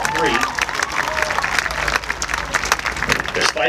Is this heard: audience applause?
yes